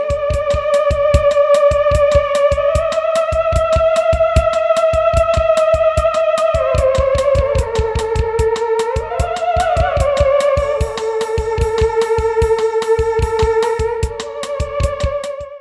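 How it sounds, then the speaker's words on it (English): A theremin plays a sustained, gliding melody with smooth pitch slides and vibrato, loud and continuous from start to finish over a steady rhythmic accompaniment, with no talking. "This is the sound of the theremin"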